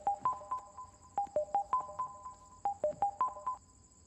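A phone's ringback tone repeats in short, evenly spaced beeping pulses, clear and moderately loud, with quiet background between rings.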